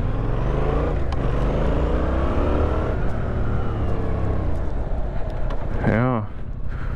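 A Yamaha MT-07 motorcycle rides over an obstacle plank without braking on a licence test course, its engine droning steadily and close, with a brief voice near the end.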